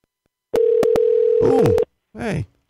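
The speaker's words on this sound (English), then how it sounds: "Hey, it's ringing." An outgoing telephone call rings back with a single steady ringing tone lasting just over a second, marked by a few sharp clicks, as someone talks briefly over and after it.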